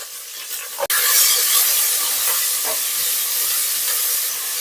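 Curry leaves, onion and green chillies hit hot oil with split chana dal for a cassava stir-fry, giving a sharp crack followed by a loud, steady sizzling hiss with faint pops and no voices.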